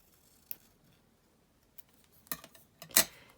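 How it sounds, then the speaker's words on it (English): Scissors snipping into the end of a fabric or paper pocket tab, a few sparse close cuts, the last ones louder and crisper, in an otherwise quiet room with no voices. "And then I'm just going to try and cut this end in."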